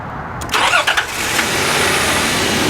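A car engine cranks with a few stuttering turns, then catches and settles into a steady, loud idle rumble close by.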